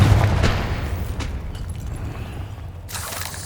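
A Confringo fire spell in the Hogwarts Legacy video game goes off as a loud, close boom at the start, then fades into a rumbling roar with a burst of crackle near the end.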